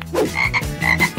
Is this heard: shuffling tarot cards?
no